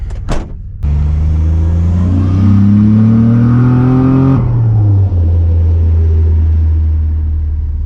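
Turbocharged VG30 engine in a Nissan Navara revs hard under boost, a loud close rising drone climbing in pitch for several seconds, then the throttle lifts and it settles to a steady lower rumble. No talking.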